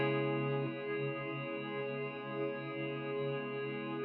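A Meris MercuryX reverb pedal holds an infinite freeze, a sustained, steady wash of layered tones that swells gently and never decays, alone with no talk.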